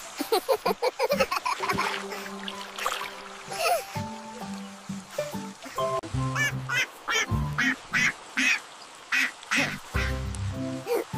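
A duck quacks repeatedly in short, close, nasal bursts, some in quick clusters, over quiet background noise.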